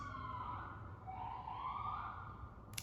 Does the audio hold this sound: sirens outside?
yes